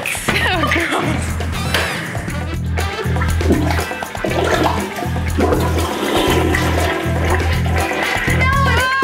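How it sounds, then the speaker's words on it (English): A toilet flushing and overflowing, a loud continuous rush and gurgle of water lasting several seconds, with people talking and exclaiming over it. "I'm about to flood this toilet."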